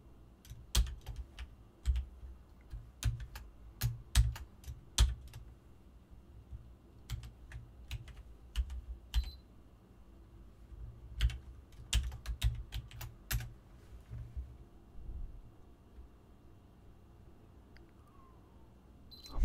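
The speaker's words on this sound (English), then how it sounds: "Make sure your caps lock is not on, by the way, when you're typing these." Rapid bursts of typing on a computer keyboard, uneven clusters of close, crisp key clicks with brief pauses between runs, heard alone against quiet room noise.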